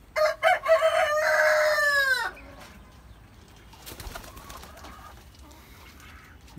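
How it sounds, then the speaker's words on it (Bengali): A rooster crows loudly and close by among backyard chickens and hens at a rooftop garden in the morning, a long rising call followed by softer clucking and ambient outdoor noise. "মোরগ মুরগিগুলো"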